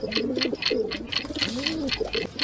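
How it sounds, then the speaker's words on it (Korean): A pigeon cooing in a steady series of soft, rounded calls, close and clear over faint background noise, with no talking. "정답은 비둘기입니다."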